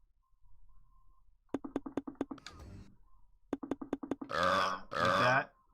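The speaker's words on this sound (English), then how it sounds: "There's a button dedicated to Shrek burping." Shrek's cartoon burp in a video game menu, two long loud belches near the end, following quick clicky button taps and a short rattling burst, with no talking.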